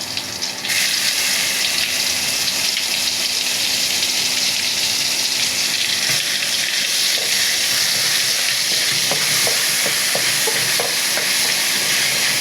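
Blended onion with garlic-ginger paste and a piece of cinnamon frying in a pan for a pumpkin and mashkalai dal dish. A steady, close sizzle runs throughout, with light stirring taps near the end.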